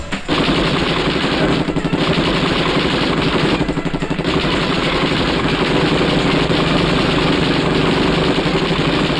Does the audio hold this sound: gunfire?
yes